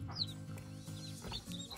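Day-old chicks on a grid floor, with a few high thin peeps over a steady low background hum, close and faint.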